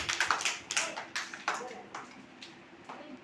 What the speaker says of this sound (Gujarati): તાળી વગાડો બધાય